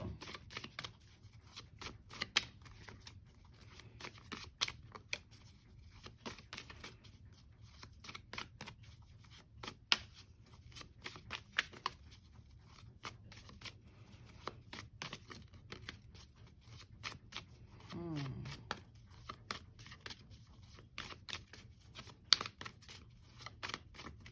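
Tarot cards being shuffled and riffled by hand, a quick run of crisp flutters and taps repeating in bursts, close and fairly quiet, with no voices.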